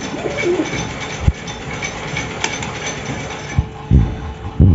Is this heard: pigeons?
yes